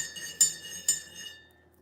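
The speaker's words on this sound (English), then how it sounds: "stirring my coffee" A spoon stirs coffee in a cup, striking the rim in two bright, close clinks that ring briefly and fade to quiet.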